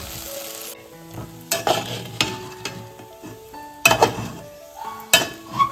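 Poha frying in a pan for a breakfast of kanda poha: a spatula scrapes and clinks against the metal pan in irregular bursts over a light sizzle, close by and fairly loud.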